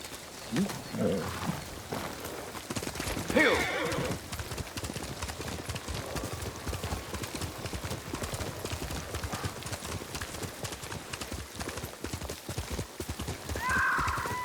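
A horse gallops with steady clip-clop hoofbeats and lets out loud neighs and whinnies near the start and middle, in the video game Ghost of Tsushima, with no talk over it.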